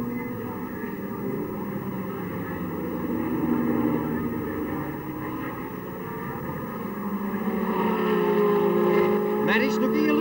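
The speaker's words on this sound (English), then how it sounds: "You can hear the howl of the V12 engine as through it goes" A V12 sports car engine in a 1968 sports car race, howling through a corner, a sustained droning tone that swells louder and rises in pitch as the car passes.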